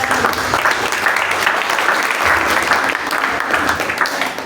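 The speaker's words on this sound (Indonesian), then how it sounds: "Tepuk tangan lagi buat teman-teman kita" Sustained applause from a church audience for performing friends, dense and fairly loud clapping from many people that holds steady throughout, with scattered voices underneath.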